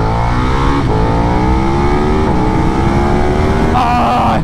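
KTM 1290 Super Duke R (2021) motorcycle, its engine intake roaring loud and close as it accelerates hard, the pitch climbing steadily through the gears with brief dips at each shift.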